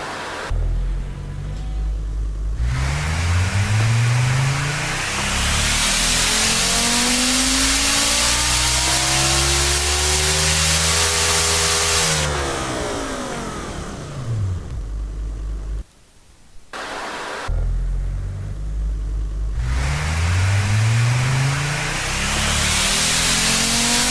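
Car engine in the Automation tycoon game revving on a dyno, a loud synthetic engine note that sweeps up and down through repeated rising and falling runs, with a brief cut to near silence partway through.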